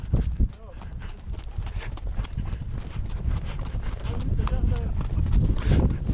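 Horse hooves clip-clop at a walking pace on a hard surface, a steady close rhythm with a low rumble and some voices in the background.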